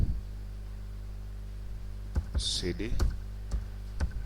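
A few separate keystrokes on a computer keyboard as a command is typed at a command prompt. The clicks are crisp and spaced apart over a low hum, with a voice heard briefly in between.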